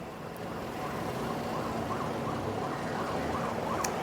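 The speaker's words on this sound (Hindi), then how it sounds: "आप मेरे पीछे देख सकते हैं कैसे कि एम्बुलेंसेस और जो आर्मी की मूवमेंट है वो लगातार हो रही है" Ambulance sirens and army vehicles on a Kathmandu street during a curfew, a steady roar of traffic with a faint wavering siren rising and falling underneath throughout.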